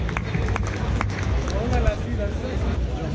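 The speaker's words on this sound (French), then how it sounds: "applaudissez-les" Fans at a large Dragon Ball Super event in Europe applaud quiz finalists, a steady wash of clapping and crowd chatter filling the room, with a voice speaking over it.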